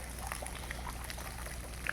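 Water pouring into a round fish tank, a steady, quiet trickle with faint bubbling over a low hum, continuous throughout.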